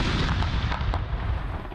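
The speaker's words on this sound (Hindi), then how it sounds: "फिजा तोपों की घन गरज और अल्लाहू अकबर के फलक शगाफ नारों से गूंज उठी।" Cannons fire a 21-gun salute, the loud, deep booms rolling and rumbling together into a heavy, continuous thunder with no voices over it.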